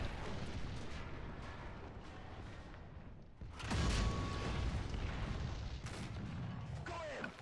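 Artillery shells land in the War Thunder ground forces battle, a heavy boom rising sharply midway over a constant roar of rumbling battle noise, with further blasts behind it.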